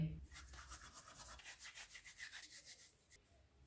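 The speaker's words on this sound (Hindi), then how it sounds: "3/4 टीस्पून अजवाइन हाथ में मसल के डालेंगे।" Ajwain (carom seeds) being rubbed and crushed between the palms over a bowl of maida flour, a soft, rhythmic rasping repeated many times, quiet and close.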